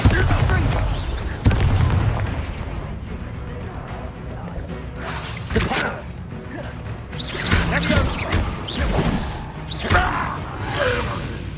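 A Bombarda explosion spell goes off in Hogwarts Legacy, a heavy boom and crash followed by repeated blasts and rumbling impacts in a loud game soundscape.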